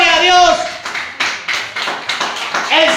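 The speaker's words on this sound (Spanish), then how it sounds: "Vamos a dar un aplauso al Señor Jesús en esta hora." A church congregation claps during a worship service, with bursts of applause between and under raised voices that are also heard at the start and end.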